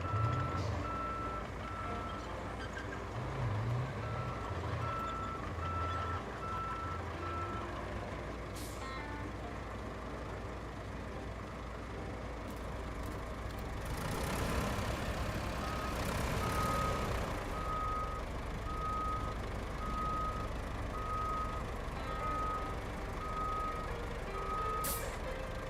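Reversing beeps from a forwarder truck in the game Roadcraft, a steady evenly spaced tone over a low engine rumble, fading out and returning later, with a hiss of air brakes in the middle and no talk.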